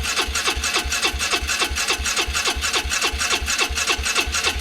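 A Polaris Ranger 500 EFI with a stumbling idle and misfire cranks over on the starter, a loud, fast, even churning pulse that carries on without catching.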